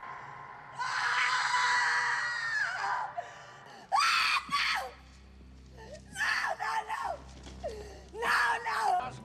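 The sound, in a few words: woman screaming in Texas Chainsaw Massacre 2 dinner scene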